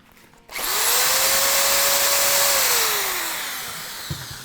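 An electric drill spins up loudly to mix epoxy in a bucket for a black, orange and silver countertop pour, holding a steady whine for about two seconds before winding down and fading out.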